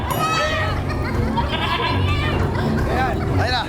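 Goat bleats several times at close range with wavering, nasal cries, mixed in with steady background chatter and voices.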